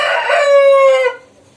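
A single young chicken, a bird raised for muscle building, gives one loud, close, drawn-out crow lasting about a second, then falls quiet; no talk.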